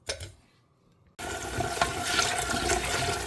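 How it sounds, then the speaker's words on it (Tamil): Water runs from a tap as roasted dal is washed at a kitchen sink, starting abruptly after a short quiet moment and then gushing steadily and loudly to the end. "Now I will go and wash the dal and come."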